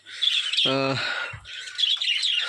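Pet birds kept in pairs in a colony aviary, chirping and twittering continuously up close, with one brief, clear harmonic call standing out partway through.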